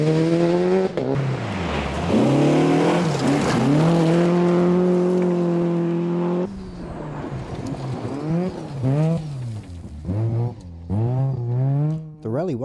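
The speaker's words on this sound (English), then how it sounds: "we saw the Walkham Grimwood Evo attacking hard right from the start" A Mitsubishi Evo rally car driven hard on a rally stage, its engine revving high and dropping through gear changes, loud and near at first, then rising and falling again as it pulls away, with a voice talking over it.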